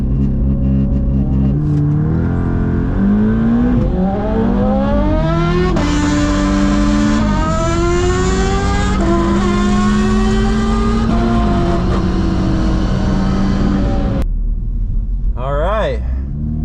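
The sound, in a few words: cars accelerating hard in a drag race run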